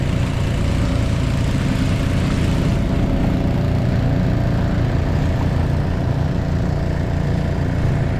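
A country boat from Pallathuruthu runs with a steady, continuous engine drone, low and even throughout, with no talk over it.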